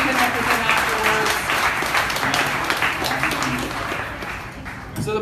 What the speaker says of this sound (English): Round of applause for these guys again, guys.